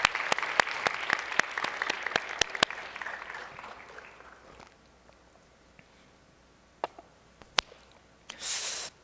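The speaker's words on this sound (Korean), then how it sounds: "우리 새내기들 이동하는데 힘차게 격려의 박수 하겠습니다." Congregation in a church service clapping together in encouragement for newcomers as they move, a dense burst of applause that fades out, followed by a few scattered claps.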